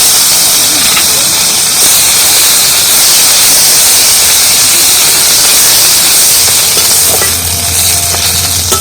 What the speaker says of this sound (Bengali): রসুনটা একটু ভেজে নেব ভালো করে